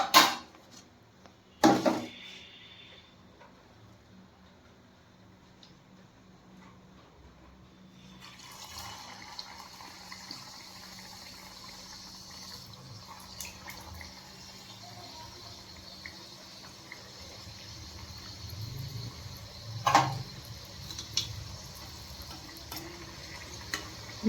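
Momos deep frying in hot oil, a steady bubbling sizzle that builds after a few clattering knocks at the start, close and continuous, with an occasional louder clunk and no talking.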